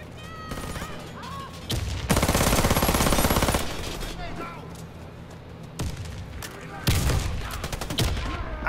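Tec-9 fire in the video game Warface, with rapid bursts of automatic gunshots in two loud stretches amid ongoing game sounds, while a voice talks underneath.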